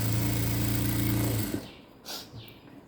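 A sewing machine stitches a blouse sleeve with a steady, loud mechanical hum for about a second and a half, then stops abruptly, leaving a few faint handling rustles and soft clicks.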